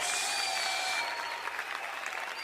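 A church congregation applauds at a family worship gathering, a dense, steady wash of many hands clapping together alongside faint sustained tones from music or singing.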